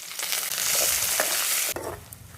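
Spices, lentils, peanuts, dried red chillies, green chillies, garlic, onion and curry leaves sizzle and fry in hot oil as a tempering for a dal curry, a steady close crackle with a stir partway through.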